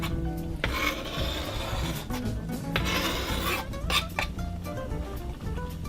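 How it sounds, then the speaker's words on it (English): Jackfruit is stirred into a puttanesca sauce in a pan, with a continuous close rasping and scraping of the utensil through the thick mixture and a few metallic clinks. "And we're going to stir that in."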